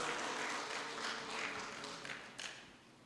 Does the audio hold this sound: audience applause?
yes